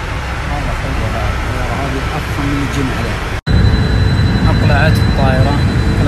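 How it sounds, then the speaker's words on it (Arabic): Private jet taking off, a loud steady engine roar heard from inside the cabin that swells after a short break, with people talking over it. "أقلعت الطائرة، أقلع خفيف سهل جدا."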